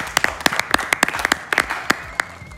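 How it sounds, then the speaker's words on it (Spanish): Studio audience clapping for Crédito Uruguayo on a bar-set talk show, a brief burst of distinct, fairly close hand claps, somewhat sparse and uneven, with no speech over it. "Un aplauso para Crédito Uruguayo."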